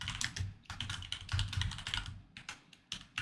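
TypeScript code being typed on a computer keyboard, with rapid bursts of crisp, close keystrokes in an uneven rhythm, broken by brief pauses and no talking.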